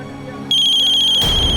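A telephone rings with a loud electronic tone in rapid pulses, starting abruptly and running under a burst of broadband noise near the end.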